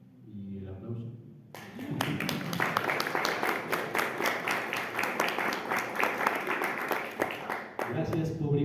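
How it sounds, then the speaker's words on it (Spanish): A small audience claps at a book presentation for a horror novel, a dense patter of hands starting abruptly after a brief voice and running steadily for several seconds before talk resumes. "Y el aplauso"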